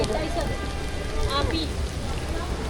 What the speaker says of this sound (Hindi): और बारिश काफ़ी तेज़ शुरू हो गई है।